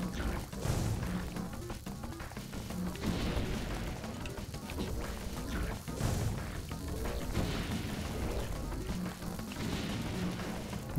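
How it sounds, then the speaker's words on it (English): Repeated muffled booms and crashes burst out in the Zelda Link's Awakening video game, recurring at intervals over a dense, steady game soundscape. "Explosions."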